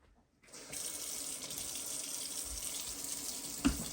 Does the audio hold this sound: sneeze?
no